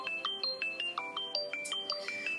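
A mobile phone plays a bright, repeating electronic melody ringtone, a quick regular pattern of short tones, close and clear with no talk.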